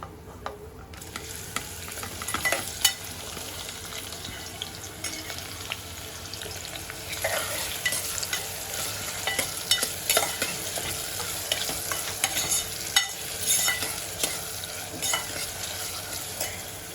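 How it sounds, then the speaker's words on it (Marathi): Onion and crushed garlic frying toward golden brown, a quiet continuous sizzle and crackle with scattered light clicks of a utensil against the pan, no one talking. "आता आपण ह्याला गोल्डन ब्राऊन होईसपर्यंत शिजवूया कांद्याला"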